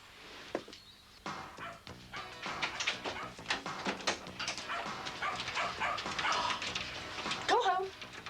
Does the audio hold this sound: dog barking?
yes